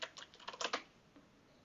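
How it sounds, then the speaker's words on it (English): A rapid burst of about a dozen light clicks comes from a computer keyboard as a password is typed, close and fairly quiet, then the room falls still. "I'm going to type in password."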